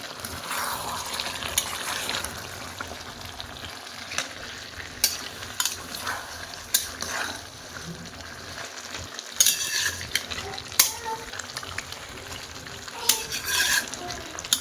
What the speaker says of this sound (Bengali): এভাবে ভালো করে কষিয়ে নিতে হবে।